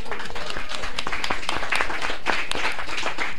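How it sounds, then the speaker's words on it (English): Convention workshop audience at DragonCon breaks into loud, continuous clapping that fills the room evenly throughout the short stretch. "I want to get a round of applause for Sunshine"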